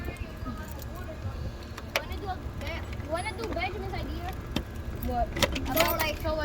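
Keys jangle at a mailbox in a series of light metallic clinks and rattles over steady background noise, while someone talks nearby.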